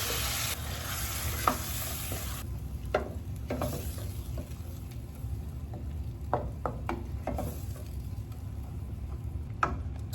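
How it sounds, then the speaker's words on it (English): Blended seasoning frying in a skillet while Caribbean-style stewed oxtails are prepared, a steady close sizzle with scattered ticks and stirring clicks throughout, no talking. "To this skillet, I'm going to go ahead and add my blended seasoning."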